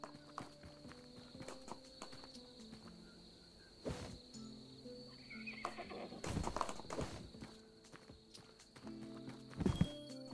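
Horses in the Tavern Manager Simulator game clop their hooves and whinny now and then, several scattered hoof hits and neighs rising toward the end over a steady backdrop of chirping crickets.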